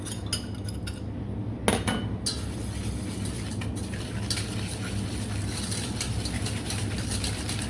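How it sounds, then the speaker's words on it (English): Egg yolks and sugar being whisked together in a bowl, a steady metallic scraping and clinking that runs almost continuously, with a few sharper taps early on. "we're going to gently whisk this together"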